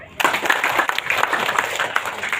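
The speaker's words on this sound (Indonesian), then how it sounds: "Tepuk tangan dong." Audience applause at a motivational business gathering, a dense wash of clapping from a sizable crowd lasting a couple of seconds at moderate level, with faint voices mixed in.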